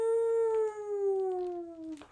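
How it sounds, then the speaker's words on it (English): A wolf howl in an animated children's show: a single long, sustained tonal howl that glides slowly downward in pitch over about two seconds, loud and clear with a rich, steady tone, ending in a brief burst of noise. "A distant howl rises the breeze, echoing through all the trees."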